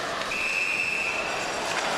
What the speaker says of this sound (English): It's whistled for the offside.